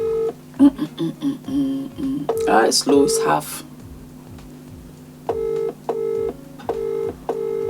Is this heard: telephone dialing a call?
yes